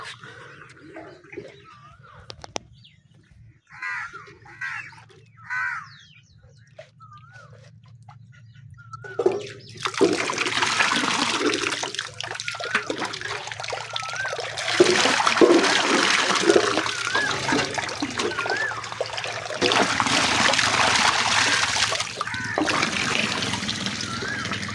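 Water from a running motor pump pours out in a steady rushing, splashing stream on a farm, loud and continuous after a quiet start with a few bird calls, with faint voices in the background.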